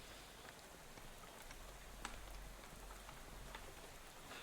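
Steady, soft rainfall in the video game Shadow over Loathing, a faint even patter of drops on a surface with occasional slightly sharper droplet ticks, continuous and distant.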